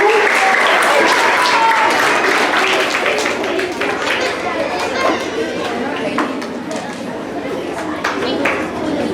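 A school assembly audience gives a long round of applause as students walk up onto the stage, loud, dense clapping mixed with crowd chatter that gradually eases off.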